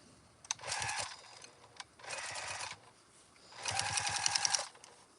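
A sewing machine stitches the darts of a fabric microwaveable bowl cozy in three separate bursts of steady, rapid whirring with short pauses between them, close up and with no talking.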